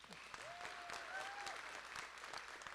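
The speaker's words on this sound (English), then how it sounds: "Let's give them a round of applause." Audience applause fills a hall at a spring nursing pinning ceremony, a steady dense wash of clapping from start to finish, with faint whistles or cheering tones drifting over it.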